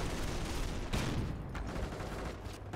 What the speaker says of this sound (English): We're seeing some auto cannon fire from the flak irving.